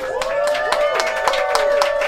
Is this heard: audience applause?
yes